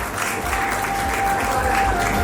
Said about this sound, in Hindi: इस प्यारे से परिवार के लिए एक बार जोरदार तालियां दिल से बजा